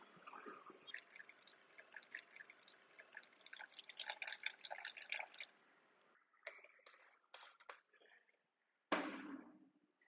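Jesmonite AC730 liquid is poured into a mixing cup, a soft, close trickle and dripping splash that fades into scattered small drips and a final louder splash, all fairly quiet.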